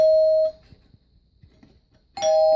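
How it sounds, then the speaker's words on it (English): A home doorbell chime strikes its bars to sound two chords, one ringing tone that fades out and then a second strike after a short quiet gap, heard close and clear. "This chime creates 2 chords instead of 2 notes."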